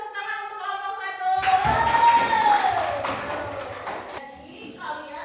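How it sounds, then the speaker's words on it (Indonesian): Classroom applause for a student group, a burst of many hands clapping that swells for about three seconds over a tonal voice, then fades back to the quieter room. "Kita kasih tepuk tangan untuk kelompok 1."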